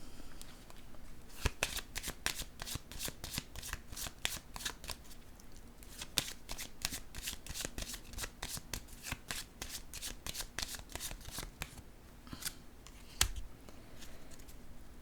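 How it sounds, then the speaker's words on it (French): Tarot cards being shuffled and laid down, close crisp riffling and flicking in quick irregular bursts, with soft slaps of cards placed on a surface. "Je vais déposer maintenant une carte sur l'ombre."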